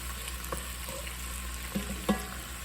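Onions and garlic sauteing in a pan, a steady soft sizzle and crackle with a few light stirring knocks, close and with no talking.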